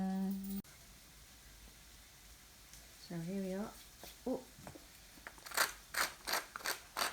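Fresh black pepper beads ground in a hand pepper grinder over a cooking pan, giving a close run of rhythmic crunchy ratcheting twists near the end, after a brief stretch of someone talking.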